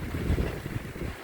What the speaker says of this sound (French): Une sacrée rafale par contre